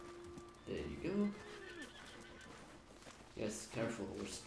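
Horse neighing in the Red Dead Redemption 2 video game, a whinny rising early and again near the end with faint hoof clatter, heard under game sounds and a voice.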